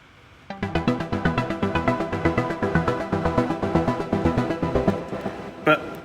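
Three layered synth patches, one of them the Diva plugin, play a steady pulsing sequence of bright, gritty repeated notes at even volume, loud and alone without any talk, ending with a brief louder hit near the close.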